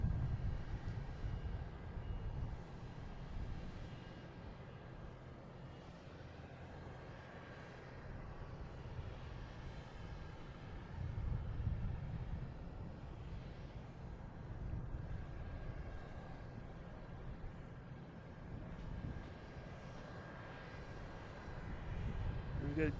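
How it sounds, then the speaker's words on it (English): A JetBlue Airbus A321 airliner arriving at Boston Logan Airport, a steady distant engine roar and low rumble that swells gently and holds for a long stretch, with no voices. "next to arrive will be a JetBlue coming in from LAX, A321, flight 588"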